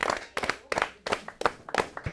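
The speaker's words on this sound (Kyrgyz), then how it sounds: "Айбек Кыргызбаев, кол чаап коелу" An audience claps for a quiz-show player, several short bursts of applause in quick succession, fairly close and lively, with no talking over it.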